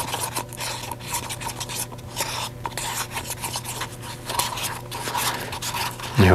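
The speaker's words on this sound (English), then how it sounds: "stir like crazy to make sure that the catalyst is fully mixed in with the resin" Epoxy resin and catalyst being stirred vigorously in a cup, a continuous close scraping and rubbing with steady rhythmic strokes throughout.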